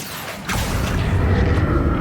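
A Confringo blasting spell in Hogwarts Legacy, a sudden booming explosion after a brief quiet start, followed by a rumbling rolling tail with faint mechanical clatter.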